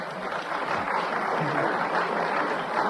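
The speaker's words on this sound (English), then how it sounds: "I don't know why you're clapping." A studio audience at a radio panel game claps in a dense, steady wash of applause that holds at an even level for about three seconds, with no voices on top.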